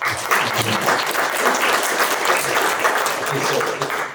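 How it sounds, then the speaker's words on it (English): A crowd applauds a speaker named Karolis at an innovation breakfast event, producing dense, loud, continuous clapping that holds steady throughout the short stretch. "round of applause for Karolis"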